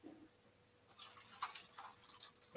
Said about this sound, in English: I'm going to fill that tray up probably about half full, not quite half full